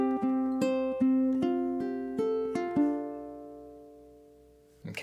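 Ukulele strums a bar of a song: about nine sharp, bright strums in a lilting rhythm, close and solo, decaying before a brief rustle at the end.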